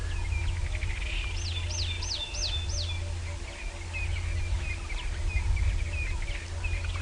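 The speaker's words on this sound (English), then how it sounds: "Cape turtle doves." Cape turtle doves call repeatedly at dawn on a safari drive, a rhythmic series of rising coos carrying over a steady low engine rumble and faint background birdsong.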